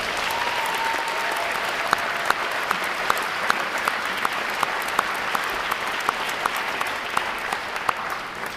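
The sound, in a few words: applause for friends and family at Navy graduation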